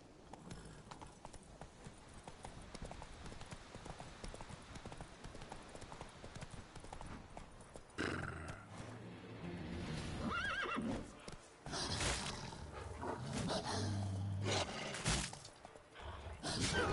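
Galloping horse in The Witcher 3, hooves pounding steadily with a whinny and rising game sounds later, loud and continuous throughout.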